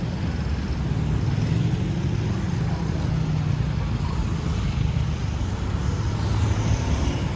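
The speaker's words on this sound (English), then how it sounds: "there is heavy traffic here, more than Legazpi city" Dense, steady city street traffic in Naga, Philippines: a continuous low rumble of engines and passing vehicles, constant and moderately loud throughout with no pauses.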